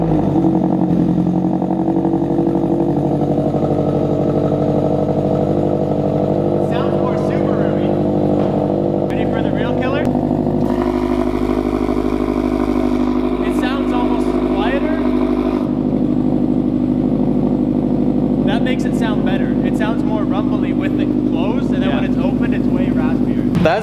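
A Subaru BRZ with a center exit exhaust and a closable valve starts up and idles with a loud, steady engine rumble. The tone shifts partway through, and people talk over the engine.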